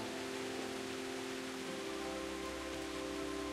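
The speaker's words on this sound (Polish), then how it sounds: "Znowu pada!" Steady rain falls in the medieval world of Kingdom Come: Deliverance, a continuous dense hiss of drops on surfaces that stays even and fairly loud throughout, with a faint low hum beneath and no voices.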